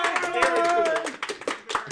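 An audience at a live online reunion event applauding: a short burst of clapping, moderately close, heard under someone talking.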